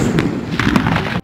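A bazooka rocket launcher fires with a sharp explosive blast, followed by a few quick booming cracks and thuds, loud and close, ending abruptly.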